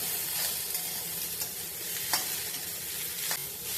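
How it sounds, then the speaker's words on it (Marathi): Onion roasting in a pan for Malvani coconut masala crackles with a dense, even sizzle close up, punctuated every second or so by soft scrapes of stirring; no voices. "आपण आता इथे हा कांदा छान असा भाजून घ्यायचा आहे"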